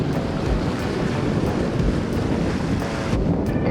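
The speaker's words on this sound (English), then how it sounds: "It wasn't supposed to be windy today." Strong wind buffets the microphone in a constant roar aboard a sailing Seawind 1160 Lite catamaran, with water rushing and splashing beneath it and faint creaks now and then.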